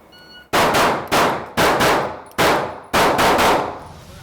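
Five rapid strings of close, loud gunshots during a timed shooting drill, each burst quickly followed by a second shot in tight double-taps, with no talk between them.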